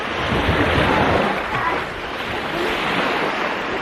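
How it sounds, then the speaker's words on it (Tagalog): Ocean waves wash steadily onto the shore at Samal, a continuous loud surf roar with some wind buffeting the microphone and no talking. "Nakaka-relax po ang sound ng wave."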